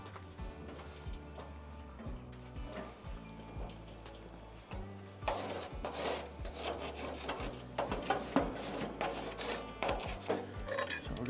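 A metal scraper works across a hot griddle over an open flame, making rough repeated rasping strokes. They are sparse at first and grow denser and louder in the second half, heard close with no talking.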